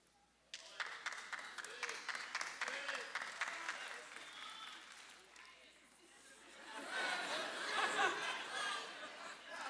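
Church audience during a sermon breaking into scattered claps and laughter, a burst of applause mixed with chatter and chuckles that fades and then swells again, with voices talking throughout.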